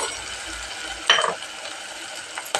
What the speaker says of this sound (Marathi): भाज्या चांगल्याच परतून घ्यायची.